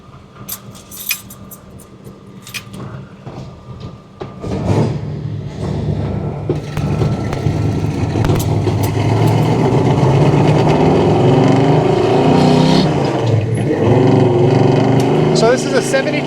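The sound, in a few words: 1972 Chevrolet Chevelle high performance engine warming up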